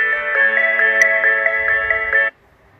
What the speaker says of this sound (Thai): เสียงเรียกเข้าเขาเปลี่ยนเสียงให้เราจากเสียงเดิมเป็นเสียงใหม่แล้ว